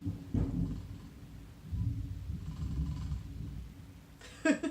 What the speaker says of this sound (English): now it's raining and like super dark out. Ooh, that's loud rain.